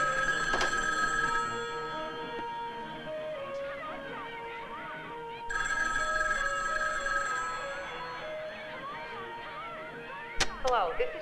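A telephone rings inside a home, with sustained electronic ringing tones that stop briefly and then resume, followed by a sharp click near the end, all fairly close and steady.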